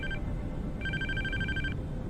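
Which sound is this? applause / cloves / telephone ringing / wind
telephone ringing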